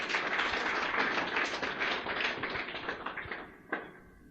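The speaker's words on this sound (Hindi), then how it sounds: "तालियां बजा दें इनके लिए एक बार" A crowd at a business seminar applauds, a thick wash of clapping that holds strongly for about three seconds, then thins out and fades, with a final isolated clap near the end.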